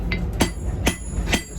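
Three sharp metallic hammer blows, evenly spaced and close, strike a steel slug out of a pair of riveted blacksmith tongs, each one a bright ringing clank.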